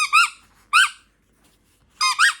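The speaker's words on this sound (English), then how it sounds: "Oh, I didn't realize it squeaked." A new dog toy squeaks loudly up close, a quick double squeak, then a pause and another double squeak, with no voices.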